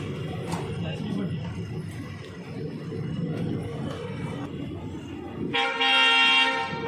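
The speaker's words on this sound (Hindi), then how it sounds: "ट्रेन अपने बिल्कुल समय से निकलती हुई रामनगर रेलवे स्टेशन से।" A train pulls out of Ramnagar railway station with a low rumble of movement and crowd chatter, then a loud, sustained horn blast sounds close by near the end.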